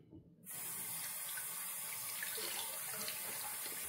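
Tap water runs steadily into a bathroom sink for a rinse after a wet shave, starting abruptly after a brief quiet moment and then continuing as an even, close rush of water.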